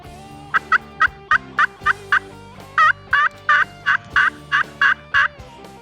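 A wild turkey gobbler calls from far off, around 500 yards away, in a series of quick, rattling gobbles repeated in rhythmic bursts, clear over quiet surroundings.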